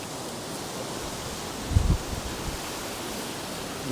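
Wind blowing steadily across an open caravan and motorhome site in Cheddar, a broad rushing noise with a brief low gust buffeting the microphone partway through.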